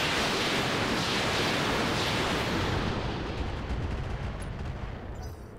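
Mech weapons firing in the video game Roguetech, a dense continuous barrage of overlapping booming shots and explosions, loud and sustained before slowly tapering off near the end, with no talking.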